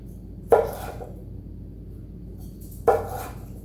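A knife cuts potato planks into sticks for Manhattan clam chowder, landing in two sharp, close chops on a cutting board spaced a couple of seconds apart, each followed by a short scrape, with no talking.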